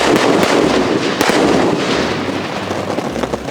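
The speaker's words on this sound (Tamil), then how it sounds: "ஃபர்ஸ்ட் நம்ம வந்து இந்த மேஜிக் ஸ்டாரை போயிட்டு வெடிச்சிட்டு எப்படி இருக்கு அப்படிங்கறத பார்க்கலாம்." Magic Star sky shot fireworks burst overhead in a crackling barrage, several sharp pops and booms stacking into a dense, loud, continuous crackle outdoors.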